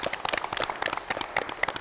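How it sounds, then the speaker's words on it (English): A small group claps for competing teams at a classroom brain-game activity, a brief, fairly quiet patter of hands with no voices. "Give them a round of applause."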